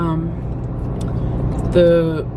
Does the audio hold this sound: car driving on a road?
yes